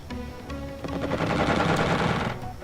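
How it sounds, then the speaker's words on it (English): A missile launch in the video game Xenonauts roars out as a loud, dense burst of rattling, gunfire-like effects that swell and hold for about two seconds before cutting off. "there goes the missile"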